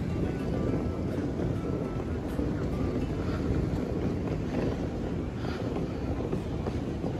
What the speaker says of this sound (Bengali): এইটা হলো মিলানো ট্রেন স্টেশন।